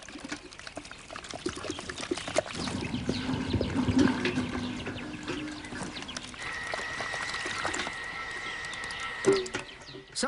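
A liquid mixture poured into a nest mound covered with a protective layer of plaster, a continuous gurgling, splashing pour with sloshing surges and a few knocks.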